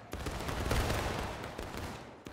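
A massed rifle volley in War of Rights bursts out loud and close, then a dense roll of overlapping musket shots fades over about two seconds.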